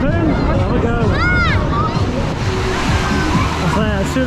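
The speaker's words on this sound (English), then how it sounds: "Got the waves going just on the one side, the other side's off at the moment" Artificial waves rolling through the Aqualand S'Arenal wave pool in Majorca, a loud steady wash of churning water with wind buffeting the mic and distant voices of swimmers mixed in.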